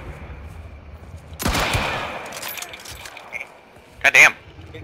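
Gunfire in the video game Hunt: Showdown: one loud crack with a rattling tail, then quieter noise and a second sharp, close blast near the end.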